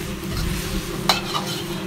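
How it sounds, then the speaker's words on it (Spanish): Broccoli with garlic stir-fried in a wok, a lively close sizzle under the scrape and shuffle of stirring, with one sharp clink of a utensil midway. "Vamos a mezclar y saltear ese brócoli."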